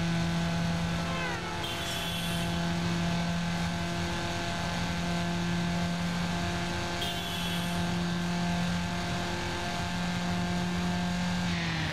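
A Honda-style VTEC engine screams at high revs during a street race in Need For Speed Underground, a loud sustained drone with brief gear-shift dips and no talking.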